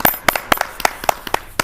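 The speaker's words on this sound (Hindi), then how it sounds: "एक बार फिर से जोरदार तालियों से अभिवादन" Sparse applause from an audience at an Independence Day poetry gathering on 15 August 2024: a handful of sharp, separate hand claps in an uneven rhythm, close and fairly loud, with no voices.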